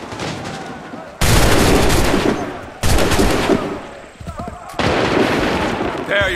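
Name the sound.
musket gunfire volley in video game Assassin's Creed 3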